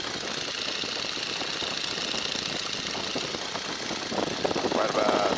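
A Boeing N2S-3 Stearman biplane's engine throttled back to about 1400 RPM, a steady loud drone with rough knocking texture throughout, swelling slightly louder near the end.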